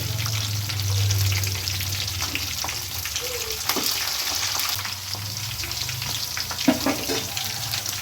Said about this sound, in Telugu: ఇప్పుడు పచ్చిమిరపకాయలు వేద్దామండి